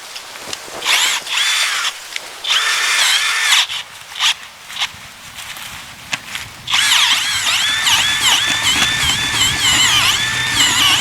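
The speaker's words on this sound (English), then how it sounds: "I'm gonna drill me in a hole right in here." A power drill bores a hole into the ground, whining in repeated bursts with short pauses between, then running steadily near the end, close and loud.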